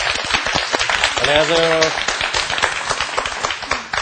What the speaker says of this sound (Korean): 매튜 선생님 큰 박수로 맞아주세요.